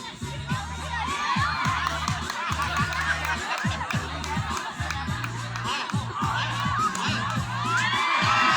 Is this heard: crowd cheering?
yes